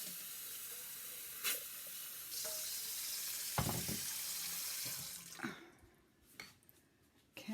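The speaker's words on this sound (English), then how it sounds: "I rinse out the blender" Water runs steadily from a kitchen tap while a blender is rinsed out after making tomato sauce, a broad hissing splash with a few clunks and shifts in the flow, close and without talk.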